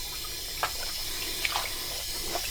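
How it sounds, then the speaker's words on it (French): Tap water pouring steadily into a bathroom sink to rinse a knitted toque, a constant rushing hiss with small splashes and clicks, close by with no voices. "Je peux remplir mon lavabo."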